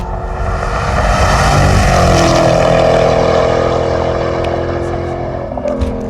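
A Camaro race car built as a DIY racer roars at full throttle on a track, a loud, close, sustained engine howl that swells and then eases slightly.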